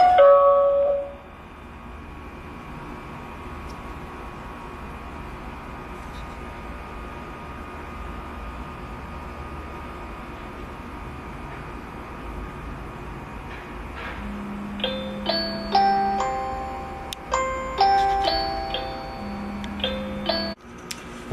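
Zmodo Greet wireless doorbell chime ringing indoors after the button is pressed; a few short, clear electronic tones arrive late in a quiet room, faint and spaced apart over a low background hum.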